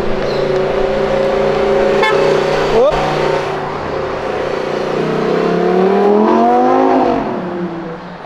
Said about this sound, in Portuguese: Eu não esperava essa Huracan passando aqui